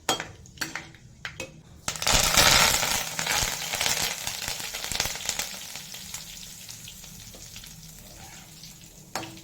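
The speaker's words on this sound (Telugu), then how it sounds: "మాడకుండా వేయించుకోవాలి." Sweet shop style mixture frying in hot oil, a dense continuous sizzle that swells loudly after a couple of clinking pan taps and then settles into a steady crackle, close up with no talking.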